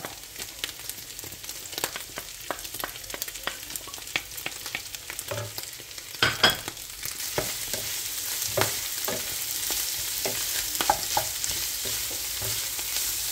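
Chopped onion and ginger fry in a pan for pork sisig, giving a steady soft sizzle broken by scattered clicks and scrapes of stirring, heard close with no talk.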